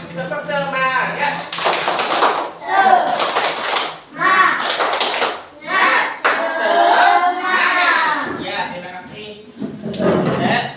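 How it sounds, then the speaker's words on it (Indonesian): A class of students performs tepuk semangat, a rhythmic spirit clapping chant, with bursts of group clapping patterns interleaved with children chanting and voices calling out in a classroom. "Sekarang kita akan melakukan tepuk semangat, lebih semangat lagi."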